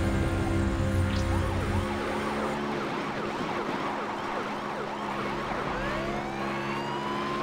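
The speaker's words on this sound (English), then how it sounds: "Okay, cool. Sirens." Wailing police sirens in the racing video game Beach Buggy Racing 2 rise and fall continuously, several overlapping, loud and close, with a low engine rumble at the start.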